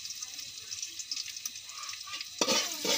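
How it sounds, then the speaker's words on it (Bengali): Onions fry in a pot for cooking Malabar spinach, a close, soft crackling sizzle with light stirring scrapes, growing brighter and louder in the last half second or so. "পেঁয়াজগুলো একটু বাদামি কালার ভেজে নিব।"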